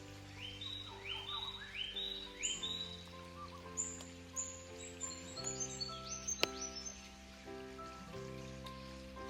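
Birds sing and chirp repeatedly with rising whistled calls over a soft pattering of rain and a humid forest background.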